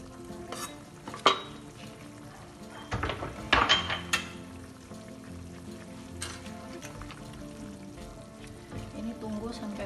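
Onions cooking in a pan for chicken meatballs in sweet soy sauce, with a soft steady frying sizzle and scraping stirs, plus a few louder clinks of utensil against pan.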